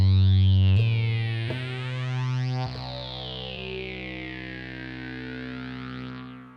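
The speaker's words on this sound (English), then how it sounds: "We've got the big sky here with the bloom effect" Sustained synth tones play through a Strymon Big Sky reverb pedal set to its bloom effect. Each note starts sharply, then swells into a long shimmering wash that slowly fades away, with no voices.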